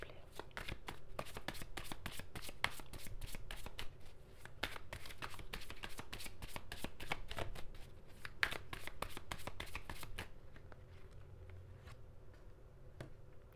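Tarot cards are shuffled by hand in a quick series of crisp riffling flicks close to the listener, steady for about ten seconds before trailing off into quieter handling.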